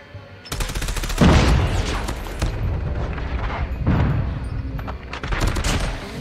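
Rapid bursts of Switchblade X9 submachine gun fire in a shooter video game, loud, close and repeated in several sustained volleys with brief pauses between them.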